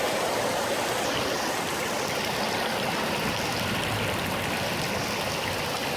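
Water rushing steadily through an opened storm drain in heavy Houston rain, a dense continuous wash of flow that stays even and close throughout with no voices.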